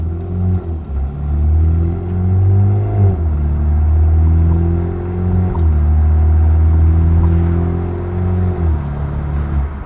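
A 2023 BMW 330i LCI with a resonator delete accelerates past outside, its loud exhaust drone rising through gears in three long pulls, with brief dips at each shift.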